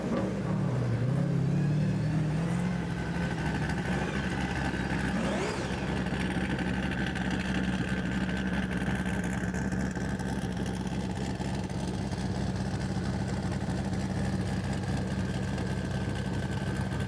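A Pro Drift Academy V8 turbo 180SX drift car sitting at the start line of a drift championship round on the F1 track at Yas Marina Circuit, engine idling with a steady, even rumble heard from some distance.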